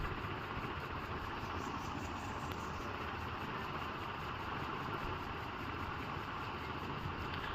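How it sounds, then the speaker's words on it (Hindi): Sewing machine running a straight stitch along the lower edge of a 42-size tucked blouse, a steady continuous mechanical drone close by with no pauses, and no talking. "अब नीचे की तरफ भी हम किनारी पे सीधी सिलाई करेंगे।"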